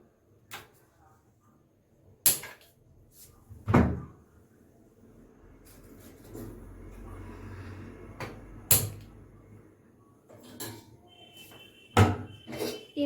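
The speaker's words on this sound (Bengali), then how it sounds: "এবার আমরা এই কড়াটাকে চাপিয়ে দিলাম।" A metal karahi being set down on a home stove while cooking a vegetarian paneer dish, giving a few hard, close clunks and knocks spaced apart, with quieter kitchen handling and background noise in between.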